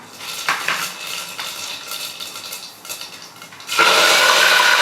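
Mustard seeds and cumin hit hot oil in a pan, giving scattered crackles and spoon clatter before a loud, dense sizzle surges in near the end; no voices.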